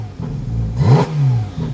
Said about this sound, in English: when we hit this button, we're going to notice a little bit of a change with the exhaust